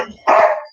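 A single sharp dog bark rings out close by, short and loud.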